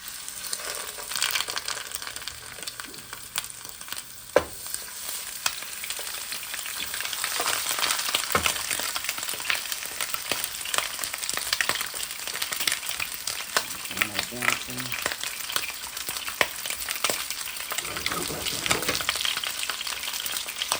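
Lamb shank sizzles steadily in hot olive oil in a pan, a loud, close, continuous crackle with occasional clinks and shifts as the meat is moved, no voices over it.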